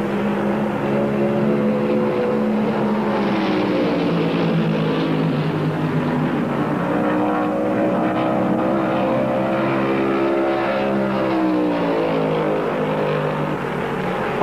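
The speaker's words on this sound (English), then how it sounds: "Bobby Allison's Mercury is pulling away" Stock cars, including a Mercury, roar steadily through a lap of the 1971 Southern 500, a loud continuous engine drone with shifting harmonic pitch as the field passes, no talk over it.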